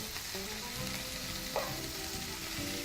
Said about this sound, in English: we're just gonna let that sear on one side